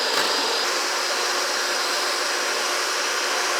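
Electric mixer beaters whipping egg yolks in a bowl for keto pumpkin spice cupcakes, a steady loud whirring drone that holds unbroken throughout.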